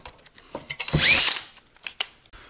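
A power drill whines briefly in one short burst, drilling out a center-punched hole, surrounded by clicks, taps and handling noises in a workshop.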